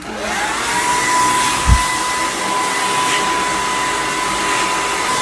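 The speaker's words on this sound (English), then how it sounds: "I'm gonna blow dry it and then I'm gonna come back." A handheld blow dryer runs steadily on a pre-highlighted wig, a loud continuous whooshing roar with a steady motor whine, holding at an even level throughout with a brief low bump near the start and no voices.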